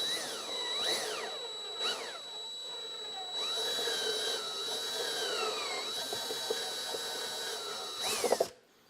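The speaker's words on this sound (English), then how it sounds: "as you're drilling it kind of melts that plastic" A power drill whines through plastic on a Honda Gold Wing saddlebag light mount, its pitch rising and falling as the bit bites and melts the plastic, then it stops abruptly near the end.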